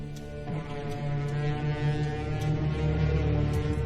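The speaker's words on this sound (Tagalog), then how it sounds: "Iyon ay tunog ng babala mula sa Hatoria." A deep, sustained warning horn from Hatoria blares loudly and steadily for several seconds, a low droning tone with rich harmonics and no voices over it.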